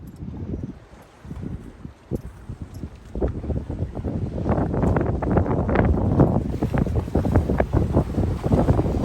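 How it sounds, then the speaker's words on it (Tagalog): Strong wind buffets the microphone while a boat cruises over open water, a steady roar that builds louder after the first few seconds and stays rough and gusty throughout, with no talk. "Malakas pa hangin."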